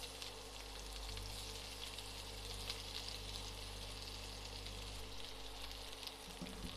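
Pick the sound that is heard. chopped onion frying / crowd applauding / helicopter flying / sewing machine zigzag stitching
chopped onion frying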